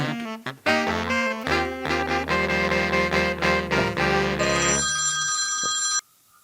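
A telephone rings with an incoming call: a loud, continuous electronic ringtone melody that plays steadily for about six seconds and then stops, with no talking over it.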